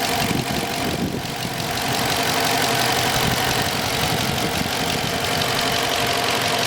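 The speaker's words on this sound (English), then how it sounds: "This is the engine. No funny noises, no funny ticks." A 5.7-litre HEMI V8 engine in a 2020 Dodge Charger Police AWD idles steadily and continuously, a low rumbling throb with no ticks and no talking over it.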